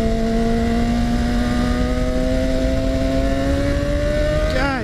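Motorcycle engine holding a steady, loud drone through a wheelie, its pitch creeping upward as it revs higher, with a brief rise near the end.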